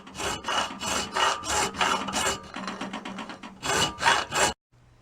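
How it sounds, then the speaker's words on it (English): A hand saw cuts into a brass kingpin bushing from a 1965 VW Beetle, with steady rhythmic back-and-forth rasping strokes close up, ending abruptly in near silence. "you just kind of saw into the brass bushing"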